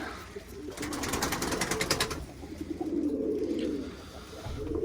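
Pigeons in a loft at feeding time give low, rolling coos near the end, after a burst of fluttery rattling noise early on, all fairly close and without talk.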